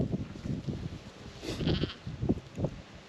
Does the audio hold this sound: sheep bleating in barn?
yes